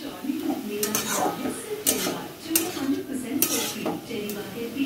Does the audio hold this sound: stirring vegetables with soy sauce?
yes